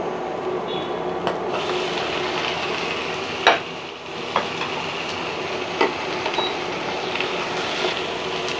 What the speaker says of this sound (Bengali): এখন আমি চিকেনটা দিয়ে দেব।